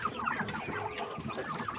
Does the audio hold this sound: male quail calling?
yes